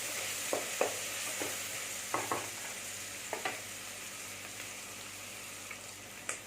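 Green chilies and onions sauté together in a pan for mushroom biryani, a soft continuous sizzle with occasional stirring scrapes and light clicks, fairly quiet and close.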